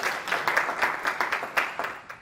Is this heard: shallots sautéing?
no